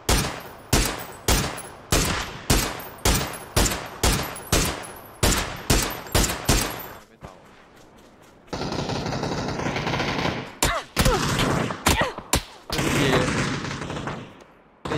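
Rapid video game gunfire rings out in a long string of loud, evenly spaced bursts, then turns into denser, noisier action with scattered shots and sustained racket.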